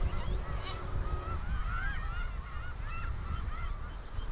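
Geese honk steadily in spring farm fields inside the border fence along Korea's Jayuro road, many overlapping calls layered into a continuous, fairly close flock chorus with no talking.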